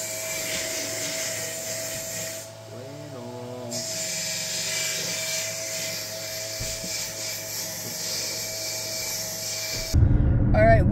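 Small handheld sander-grinder sanding wood, a steady high-pitched whine running continuously with a brief pause and a short burst of louder rough noise at the end.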